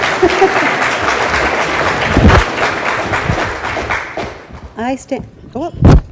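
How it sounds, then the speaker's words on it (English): Audience clapping at a spaghetti dinner, a dense wash of applause filling the room for several seconds before it thins out and a voice begins speaking near the end. "You can clap."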